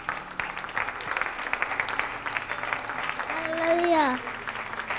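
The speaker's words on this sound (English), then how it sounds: "let's give the Lord a hand clap of praise" A church congregation claps in praise, the dense applause carrying on under loud voices, with a rising vocal exclamation near the end.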